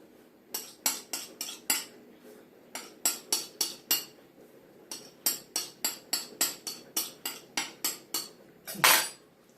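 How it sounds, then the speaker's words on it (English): The back of a knife trimming excess pastry off a rhubarb tart, a quick series of sharp metallic taps against the tin rim, close and crisp in uneven bursts over quiet background. "pick up your knife and with the back of your knife trim off the excess"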